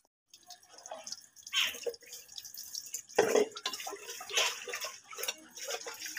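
Water splashes and swishes as rice is washed by hand in a hot home kitchen. Irregular sloshing bursts and drips come close and fairly loud, with no talk.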